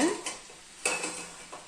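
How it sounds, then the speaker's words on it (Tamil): A large ladle stirring tea shop bondas frying in a pan, a few short metallic scrapes and clinks against the pan over a faint background. "அவ்வளோ பெரிய கரண்டி எடுக்கிற கரண்டிலேயே நான் வந்து கிளறி விடுறேன்"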